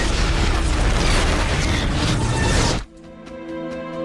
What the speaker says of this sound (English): Because nuclear explosions have been done so many times in show, Lee had really chosen to play it down.